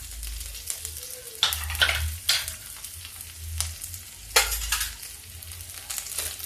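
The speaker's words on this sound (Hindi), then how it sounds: "अब इसको भून लेते हैं।" Cabbage, peas, garlic and green chilli sizzle and crackle in a hot pan, with bursts of louder frying as they are stirred and a few soft clinks, no talking.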